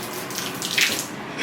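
Water poured from a container onto a waterproof t-shirt, a short splashing gush that swells briefly in the middle before settling back to a light trickle.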